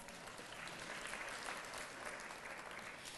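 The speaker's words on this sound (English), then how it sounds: "Give her a round of applause." Applause from a large audience at the Michigan Muslim Capitol Day event, a dense, even roar of many hands clapping, sustained at steady loudness for the whole stretch.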